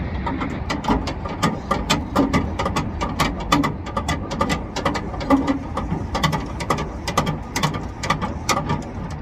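A spare tire winch on a Toyota Tacoma is cranked down by hand, giving a steady stream of rapid metallic ratchet clicks in an uneven rhythm, close and clear, with no voices.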